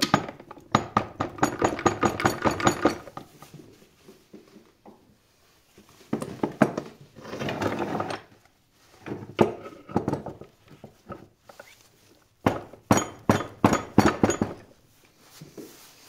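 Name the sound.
rubber mallet hitting a stuck bearing on a Suzuki Swift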